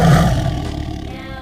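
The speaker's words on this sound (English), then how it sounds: "T for tiger." A tiger gives a single deep, rumbling roar, loudest at the start and slowly fading over a second and a half, heard alone without any voices.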